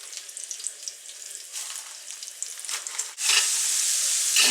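Chicken pieces fry in hot peanut oil on medium-high heat, a steady crackling sizzle that swells into a louder, denser hiss partway through as more pieces go in, with no talking.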